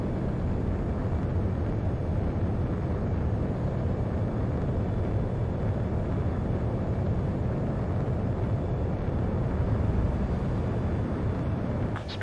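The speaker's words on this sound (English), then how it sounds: "Spare 15, takeoff confirmed." Fighter jet taking off in the video game Ace Combat 7, a loud, continuous broadband engine roar that stays steady and unbroken throughout with no voices over it.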